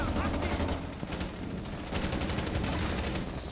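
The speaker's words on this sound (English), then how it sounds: "he's fucking shooting at me" Rapid gunfire from a multiplayer shooter game, several bursts of shots running continuously through the clip under a busy mix of game sound.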